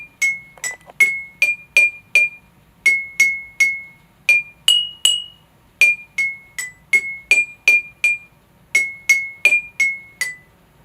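A simple melody is struck on tuned glasses, with clear ringing pings in short rhythmic phrases separated by brief pauses, close and bright.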